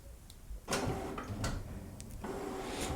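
An HP ENVY Inspire 7255e or 7955e inkjet printer starting a print job: a soft click, then a steady mechanical whir with repeated sliding and clicking of the print carriage and paper feed, close by and moderately quiet.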